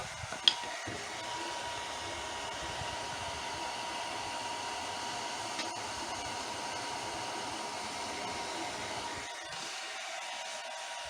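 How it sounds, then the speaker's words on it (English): A blacksmith's forge roars with a steady, breathy blower rush at moderate volume throughout, broken only by a couple of brief clanks, and no one speaks. "Right, the forge is going"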